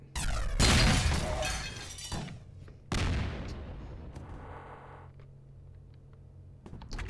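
A rocket launcher fires in the side-scrolling shooter Plazma Burst 2 with two loud, close blasts that trail into crashing, shattering debris and a fading rumble, followed by quieter ticks and a thud.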